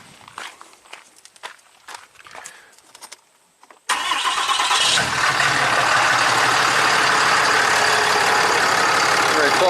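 After some scattered knocks and shuffling, a Cummins diesel truck engine starts abruptly and keeps running at a loud, steady idle right up close.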